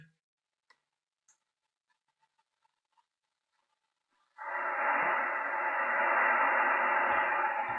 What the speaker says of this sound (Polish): jakiś szum słychać w głośniku